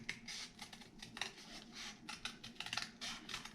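Scissors snip by hand through card stock around a traced circle for a round box, a quick run of crisp close cuts with short pauses between strokes.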